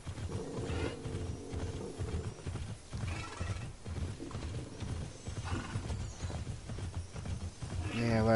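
Horse hooves clip-clop at a fast, rhythmic gallop in the Immortals Fenyx Rising video game, with a neigh near the end, while a person talks over the gameplay.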